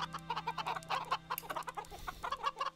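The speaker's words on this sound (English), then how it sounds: "Look at all these silly chickens down there." A flock of Minecraft chickens clucks in rapid, overlapping bursts, fairly close and continuous, with a faint low electronic hum underneath.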